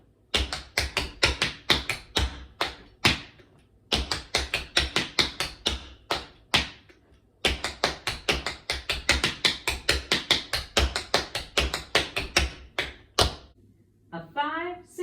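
Crisp tap shoe strikes play fast paradiddle patterns built from heel, brush and dig steps, close and loud, in three bursts of rapid even clicks separated by brief pauses.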